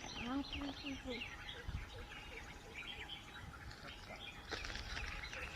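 Several bird calls and chirps, including a parrot's squawk from a tree in a forest, scattered across the clip outdoors, with faint flapping and background rustle.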